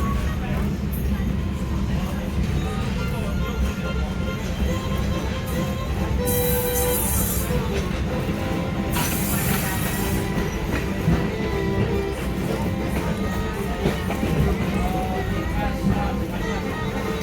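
Riding aboard a museum train as it rolls past its fence line into the Spencer Freight Yard used by Norfolk Southern: a steady, loud rumble of wheels and car body with rhythmic clatter and brief high squeals.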